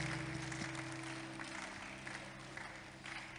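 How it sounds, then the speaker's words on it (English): A church congregation claps as an offering during a sermon, a faint, continuous wash of applause heard at a distance beneath a steady background hum. "give a big clap of offering to Jesus"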